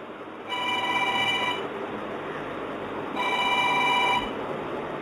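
A telephone rings in two long electronic bursts separated by a pause, fairly loud and nearby, over a steady room hiss with nobody speaking.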